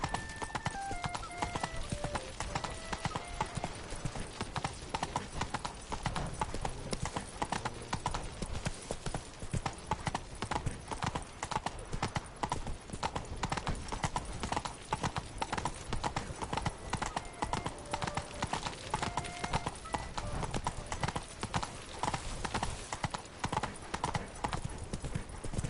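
Roach, a horse in The Witcher 3, trots with steady, continuous hoof clip-clops throughout, close and prominent, with faint voices and a brief whinny in the mix.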